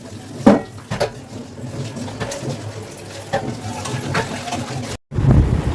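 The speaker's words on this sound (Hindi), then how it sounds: "सारे बर्तन धो लूंगी मैं," Dishes and utensils being washed in a home kitchen: close, irregular clinks and clatters of pots and cutlery over a steady wash of running water, with a brief drop-out near the end.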